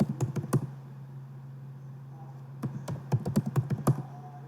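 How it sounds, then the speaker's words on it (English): Keys clack on a computer keyboard in two short bursts separated by a quiet pause, close and crisp over a low steady hum, with no talking. "Let me type it so you can."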